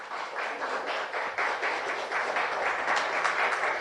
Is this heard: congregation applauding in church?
yes